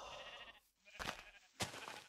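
Sheep in the Minecraft video game give a bleat followed by two short, sharp bursts of game sound, faint and without talk.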